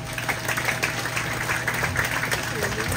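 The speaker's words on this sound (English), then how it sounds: "Please join me in giving another round of applause for Senator Johnson Asher." An audience at a Kosrae State day event during the Micronesia Expo applauds Senator Johnson Asher, with steady, moderately distant clapping through a hall's ambient noise.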